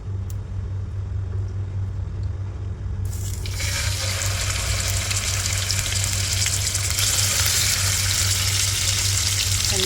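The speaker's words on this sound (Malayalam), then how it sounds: "പാൻ ചൂടായിട്ടുണ്ടെങ്കിൽ നമ്മൾ അതിലേക്ക് കുറച്ച് വെളിച്ചെണ്ണ ഒഴിച്ചിട്ട് ഒന്ന് വറുത്തെടുക്കാം" Marinated chicken pieces dropped into hot coconut oil set off a sudden loud, continuous sizzle partway through, following a steady low hum that keeps running underneath the hiss.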